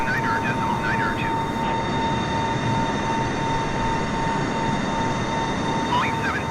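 Boeing 747 engines in Microsoft Flight Simulator make a steady, even drone with a thin sustained tone on top, holding level for the whole stretch, and faint brief chirps appear near the start and end.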